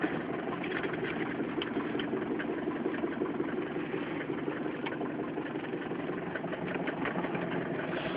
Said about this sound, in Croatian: Evo, kao što vidite, upalio je lako.